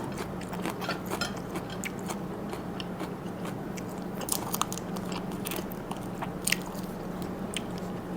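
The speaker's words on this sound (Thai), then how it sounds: "มีความกรุบๆของหนังหมู" Close, continuous chewing of crispy pork skin alongside Japanese cucumber and fermented pork snacks, dense crackling crunches with moist squishes over a low background hum.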